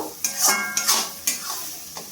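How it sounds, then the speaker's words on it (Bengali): Ground garam masala and spice paste being sautéed in a pan for a rui fish kalia, a spoon scraping and clinking against the pan in three or four strokes over a soft sizzle. "এবার মশলাটাকে ভালোভাবে কষিয়ে নেব।"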